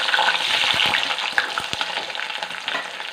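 Onions and green chilies dropped into hot oil with popped mustard seeds, a loud, close, continuous sizzle broken by clicks and scrapes of stirring.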